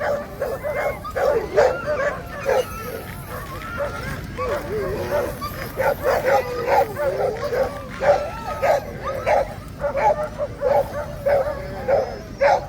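Sled dogs at the start of a K300 sled dog race bark, yip and whimper in repeated bursts, excited and fairly near, while people talk over the commotion.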